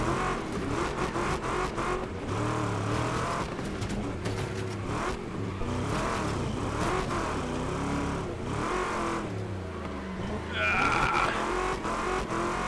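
Race cars in the video game Wreckfest 2 roar and rev on a scrapyard track, engines rising and falling steadily throughout, with someone talking over the noise.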